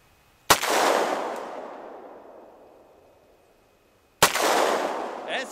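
Two gunshots, each a sharp loud crack followed by a long rolling echo that slowly fades, with a pause of a few seconds between them.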